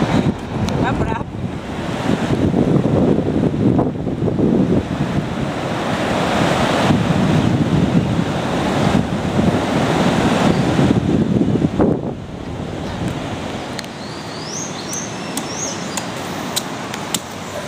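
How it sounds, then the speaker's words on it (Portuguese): Rough sea with heavy surf: a loud, continuous roar of breaking waves with wind buffeting the microphone, easing slightly toward the end. "seu mar. Tá bravo."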